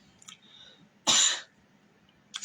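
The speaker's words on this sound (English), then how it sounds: "Excuse me for coughing." A single loud, close cough bursts out mid-clip, sharp and broadband, followed by a shorter cough-like onset at the end, against a quiet room with low background hum.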